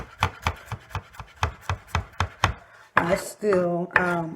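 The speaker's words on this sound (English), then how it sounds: "Some fresh garlic here. Quick little mince." Fresh garlic being minced with a knife on a board, a quick run of about a dozen evenly spaced chops followed by a burst of faster rubbing, scraping cuts.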